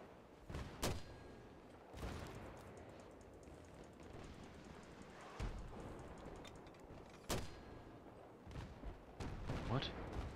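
Mortar and artillery blasts in the video game Battlefield 3 land as sharp booming impacts, several spaced across the span with a dense rumble between them, while a person talks over the action.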